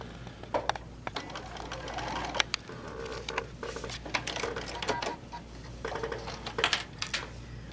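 A domestic sewing machine stitching a few quilt tacks at the seams of a Crossroads quilt, bursts of rapid mechanical clatter starting and stopping close by, with small clicks and fabric handling between runs.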